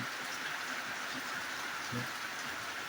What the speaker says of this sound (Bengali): দেখতে পাচ্ছেন কিভাবে বৃষ্টি হচ্ছে